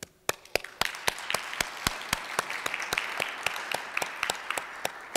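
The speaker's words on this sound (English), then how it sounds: "And a round of applause, too, for Barbara Dickerson and Bob Brandstetter and Bill Stilley for their work" At a Rotary club meeting, a small round of applause rings out as crisp, distinct hand claps in a quick, regular rhythm that continues steadily for several seconds, close and with no talking.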